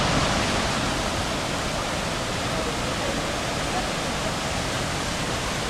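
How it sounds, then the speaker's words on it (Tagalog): Baranas Falls on Mt. Hilong Hilong pours as a dense, unbroken roar of falling water, steady and loud from start to finish with no distinct voices above it. "Going to Baranas Falls guys."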